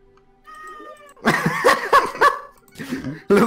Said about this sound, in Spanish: está en mi hombro maullándole al micrófono